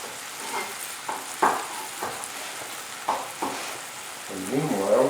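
Shrimp and scallops fry over a super high flame, a steady close sizzle broken by several sharp stirring scrapes and clatters, with bubbling swelling near the end.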